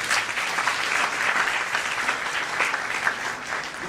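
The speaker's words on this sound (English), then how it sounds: "Don't we require an applause for that?" Steady applause from an audience at a talk on spiritual education, continuous dense clapping filling the room with no speech over it.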